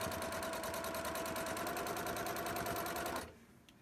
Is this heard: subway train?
no